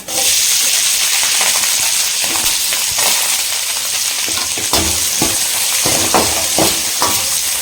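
Onions and green chillies fry in a hot pan, giving a loud, steady sizzle with scattered stirring scrapes and clicks throughout, no voices.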